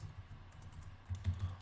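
Soft, quick keystrokes patter on a computer keyboard in an irregular run, close and fairly quiet, growing slightly busier toward the end.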